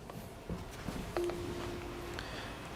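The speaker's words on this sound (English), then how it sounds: "what happens when somebody initiates a call from the intercom. So if I go ahead and push this button," Akuvox R20 video intercom call button pressed: a couple of faint clicks, then a steady, clear electronic call tone holds for about a second in a quiet room.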